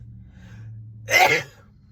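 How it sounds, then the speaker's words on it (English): A single sneeze bursts out around the middle, loud and close, over a low steady hum, with quiet room tone before and after. "I have to sneeze."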